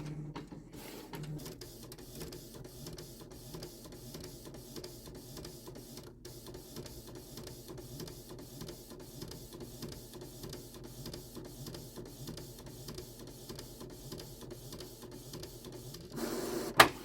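A home printer runs through a print job, its steady mechanical whirring and rhythmic feed clicks continuing at low volume, ending with a brief louder clunk.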